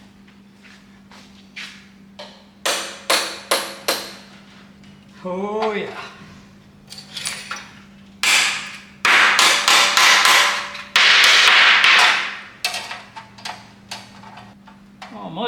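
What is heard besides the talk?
hammering metal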